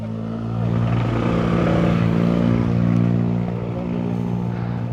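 A motorcycle engine hums steadily close by, a low continuous drone with a slight swell in the middle, no voices.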